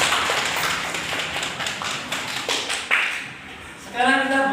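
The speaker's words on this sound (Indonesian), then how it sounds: "tepuk tangan buat kelompok" A classroom of students claps for a student group in a short, uneven burst of hand claps that thins out and fades, before a voice starts speaking at the end.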